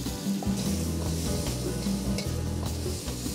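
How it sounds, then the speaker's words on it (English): Filet mignon sears in a pan for a quick Asian-influenced Peruvian stir-fry sauté, giving a continuous loud sizzle over low background music. "And we use filet mignon for this dish. And it's a saute, it's like a stir fry."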